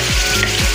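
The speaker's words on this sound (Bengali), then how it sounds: "এবারে আমি আদা, রসুন আর টমেটোর পেস্টটা আমি দিয়ে দেবো।" Ginger, garlic and tomato paste frying in a pan makes a loud, close hiss, with two short scraping strokes of stirring.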